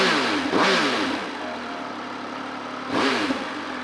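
A Triumph Speed Triple 1200 RS motorcycle's three-cylinder engine idles nearby, then revs sharply twice, each blip rising and falling quickly before dropping back to a steady idle.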